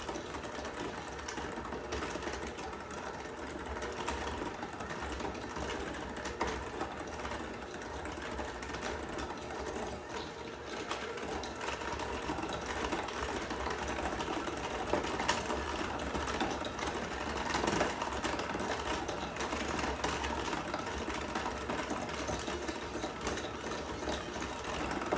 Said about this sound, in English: we just want to do French creaming the butter and sugar